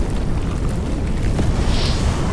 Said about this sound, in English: Suddenly, the sound of an explosion rings out.